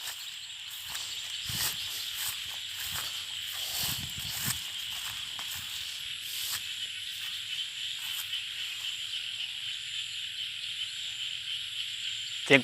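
Frogs calling at night in a rural Thai setting, a steady dense chorus of croaks and insect-like trills with scattered louder close calls, no talking.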